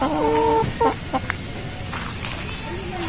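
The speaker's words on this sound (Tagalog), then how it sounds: "Ito yung ating makiisig na Rhode Island na rooster" A Rhode Island rooster and hens on a broiler chicken farm clucking close by, a few sharp calls in the first second followed by softer clucks over a steady backdrop of other birds and farm noise.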